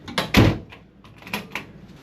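A shower door on a truck-stop diesel pump is closed, giving a near thump with a short rattle, then a couple of lighter knocks follow.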